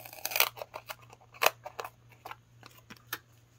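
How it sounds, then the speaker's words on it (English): Craft scissors reserved for adhesive materials snip repeatedly and close by during paper-crafting card making, giving a quick irregular series of crisp, light cuts in a quiet room. "Designated scissors just for working with anything adhesive."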